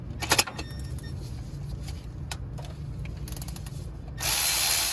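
A ratchet works a 12mm bolt on the air-conditioning compressor of a Honda Insight 2ZE, giving a sharp burst of clicks near the start, then scattered faint metallic ticks over a low steady hum, and a louder broadband noise at the end.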